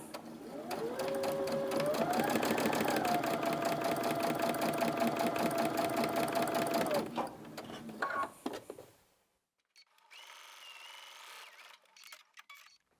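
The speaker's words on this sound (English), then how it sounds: "we're just going to top stitch those top edges down" A sewing machine top stitches the fabric edges of a Christmas advent calendar, running at a steady, fast whir for about seven seconds before stopping, followed by clicks, handling noise and a moment of quiet.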